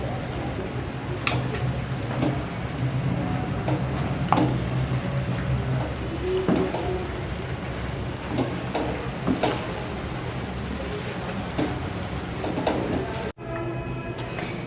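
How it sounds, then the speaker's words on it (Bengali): Eggs fry in a pan, a steady close sizzle and crackle with occasional clicks and taps of a utensil running throughout, briefly cutting out near the end. "খিচুড়ি দিয়ে খাওয়ার জন্য ডিম ভেজে নিতেছি"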